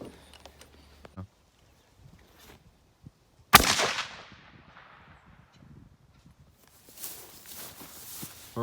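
One loud, sharp gunshot from a .308 rifle fired at a truck door, with a long echoing tail fading over a few seconds, preceded by quiet handling clicks and followed by faint rustling.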